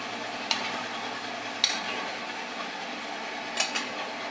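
Eggplant and tomato are stirred in a pan of boiling water. A soft, steady sizzling hiss runs throughout, broken by three or four sharp utensil clinks against the pan, with no talking.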